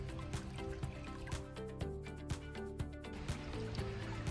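Shallow stream water flowing and trickling over rocks and sand, a steady close wash with small splashes and drips and occasional soft knocks, no voices.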